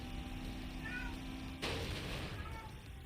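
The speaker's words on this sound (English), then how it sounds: "I hope you hear my cat in the background." A pet cat meows faintly a couple of times in the room, short thin cries set behind steady video game audio from Trails Beyond the Horizon, with a sharp burst of game noise partway through.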